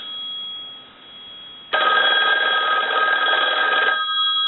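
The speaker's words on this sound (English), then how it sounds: "I'll let the ring go a few times." A loud, close mechanical bell of a Western Electric 500 rotary telephone rings in one sustained burst of about two seconds, then cuts off, leaving a faint steady hum.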